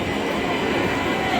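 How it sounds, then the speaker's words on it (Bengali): A train pulling out of a station platform, a dense, loud rumble of railcars rolling close by, continuous and steady over the short span. "ট্রেন ছেড়ে দিয়েছে।"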